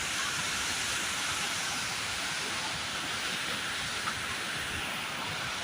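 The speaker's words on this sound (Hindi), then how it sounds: "भट्टा वाटरफॉल के कुछ और ऊपर के नज़ारे" Bhatta Falls near Mussoorie pours in a steady, broadband rushing roar, unbroken and fairly soft, heard alone without voices.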